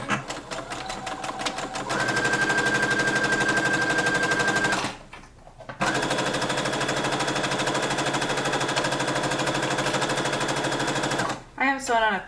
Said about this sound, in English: since I have a sewing machine, it's easier to just sew it.